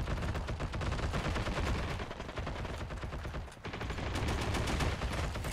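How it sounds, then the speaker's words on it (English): Sustained light machine gun fire in a first-person shooter, a dense rapid stream of loud automatic shots with one brief break near the middle before firing resumes. "Shoulder firing an LMG."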